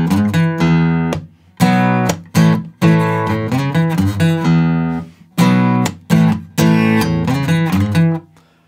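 Guitar in standard tuning plays a song intro: bright chords and quick note runs come in punchy bursts separated by short pauses, loud and close, with no talking.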